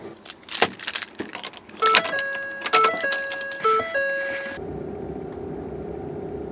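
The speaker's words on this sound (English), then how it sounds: "Now you just turn on the truck." A pickup truck being switched on: keys jangle and dashboard chime tones ring out, then the engine catches and settles into a steady low idle rumble that continues to the end.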